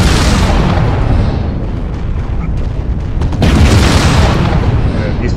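Video game battle with continuous loud gunfire and booming explosions, dense and unbroken, swelling louder toward the end.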